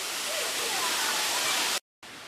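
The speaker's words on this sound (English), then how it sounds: "Here we are at the lower waterfall of Gozalandia." Roaring, steady rush of the lower Gozalandia waterfall in San Sebastián, Puerto Rico, heard close as a broad continuous wash of falling water, with one brief dropout near the end.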